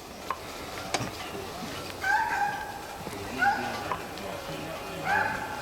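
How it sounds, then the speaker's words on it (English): Hunting dogs bay in short, repeated bursts at hogs during a hunt, sounding at a moderate distance over outdoor background noise, with a few spaced barks across several seconds. "See how they come to that bark?"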